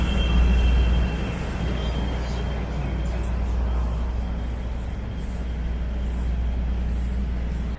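Steady low rumble of a moving Chicago city train heading downtown, constant rolling noise with a faint high whine, no talking.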